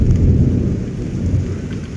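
Heavy rain pours steadily with a deep rumble of thunder rolling underneath, loud and continuous with no voices.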